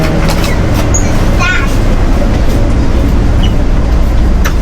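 An airport express train in Taiwan rumbles along with a loud, steady low roar inside the carriage and faint high squeals above it.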